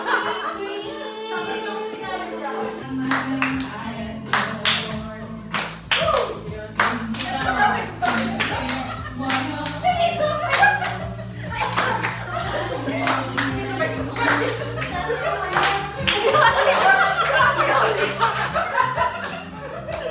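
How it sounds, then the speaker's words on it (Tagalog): Hands clap repeatedly at a lively gathering during a game showdown, steady claps mixed with chuckles, laughter and excited voices throughout. "Palakpak na!"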